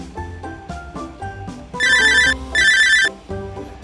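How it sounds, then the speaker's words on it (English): A mobile phone rings with a bright, electronic ringtone: a few short tonal notes, then two loud sustained bursts of repeated ringing close by, with no talking over it. "I'm going to end this vlog right now because my phone rang."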